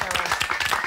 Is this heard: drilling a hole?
no